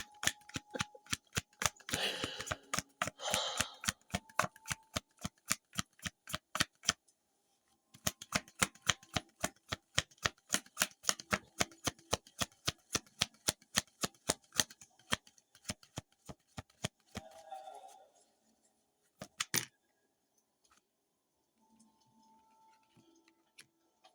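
A tarot card deck being shuffled in long runs of rapid, evenly spaced riffling clicks, close and crisp, pausing briefly between passes and trailing off into quiet near the end.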